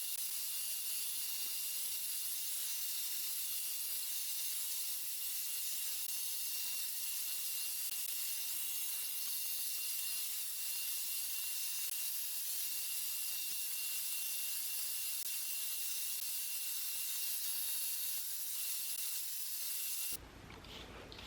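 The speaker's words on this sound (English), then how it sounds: "I'm going to blow dry what's not dry on my hair" A hair dryer runs steadily while blow drying a short pixie cut, a constant loud airy whoosh for about twenty seconds before it cuts off near the end, no talking.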